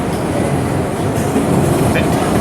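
An R211 F subway train runs on rails, a loud, continuous close rumble with rattling wheel noise and a faint squeal near the end.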